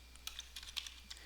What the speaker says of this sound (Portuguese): eu vou digitar aqui o usuário